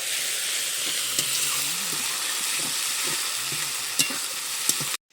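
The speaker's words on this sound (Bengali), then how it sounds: "এবার আমি এখানে দিয়ে দেব রসুন বাটা আদা বাটা আদা রসুন বাটাটা দিয়ে আমি আরও একটু নেড়ে চড়ে নেব" Ginger-garlic paste fries with onions in hot oil while being stirred. A steady, close sizzle runs throughout, with light scraping and clinks of the spoon against the pan. No one speaks.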